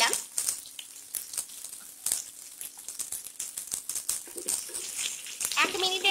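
Chopped onion frying in hot oil for aloo do pyaza, a steady soft sizzle and crackle with occasional stirring clicks, fairly faint, under a speaking voice.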